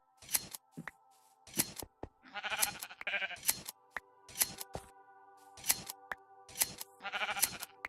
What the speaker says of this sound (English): The brown sheep.